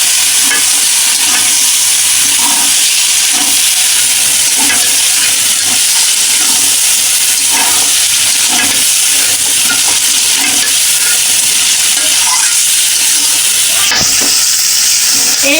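Mutton pieces stirred and fried in a spice paste for a whole-garlic goat curry, a loud, dense sizzle filling the whole stretch with rhythmic scraping strokes of the spoon, and a sharp knock near the end.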